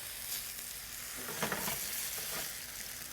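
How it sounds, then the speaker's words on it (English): Beer poured into a hot pan of sauerkraut and apples hisses and sizzles, a steady close frying crackle with a brief surge of louder bubbling in the middle. "this is when we're gonna add our beer to the mix"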